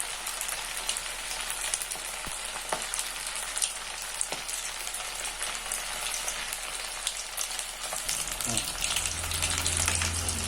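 Chicken pieces for a Chinese-style chicken fry sizzle steadily in hot oil, a dense continuous crackle with scattered pops, joined by a low rumble and clatter near the end.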